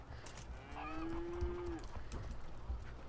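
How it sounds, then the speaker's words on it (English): Cattle in The Sims 3 let out one long, drawn-out moo that rises and holds before fading, heard up close over a low, steady game background with no talking. "Dang, those cows, though,"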